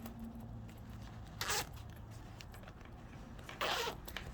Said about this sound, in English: And now I will check the zip to see if working good.